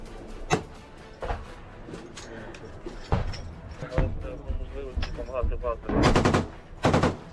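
Bursts of gunfire in Ukraine war footage, sharp close shots scattered through the clip with clustered rapid volleys near the end, heard alongside voices talking.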